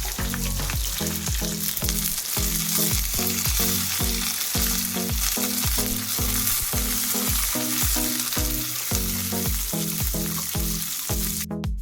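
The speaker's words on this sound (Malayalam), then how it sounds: "ഇതിലേക്ക് ചെറിയുള്ളി, വറ്റൽമുളക്, കറിവേപ്പില ഇതെല്ലാം കൂടെ ചേർത്തിട്ട് ഒന്ന് താളിച്ചെടുക്കാം" Loud, steady sizzling of shallots, dried red chillies and curry leaves tempering in hot oil for a snake gourd curry, with rhythmic scraping and stirring strokes throughout.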